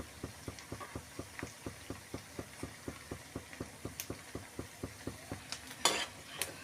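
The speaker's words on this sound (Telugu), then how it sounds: "ఇలా వేగాలి, ఇంకా కొంచెం వేగాలి, గోల్డెన్ బ్రౌన్ కలర్ వస్తే సరిపోతుంది" Black-eyed pea fritters fry in hot oil, a faint sizzle beneath a steady, evenly spaced series of soft rhythmic taps, close by, with a brighter crackling burst near the end.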